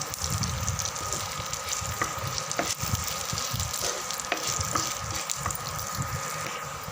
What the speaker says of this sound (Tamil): நல்லா செவக்க வதக்கியாச்சு